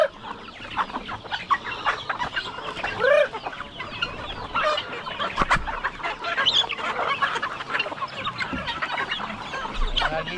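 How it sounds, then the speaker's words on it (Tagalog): Chickens, with guinea fowl among them, cluck steadily and busily up close at feeding time, with scattered squawks and a brief crow-like call among the flock. "Ayan po, magpapakain tayo sa ating mga manok dito."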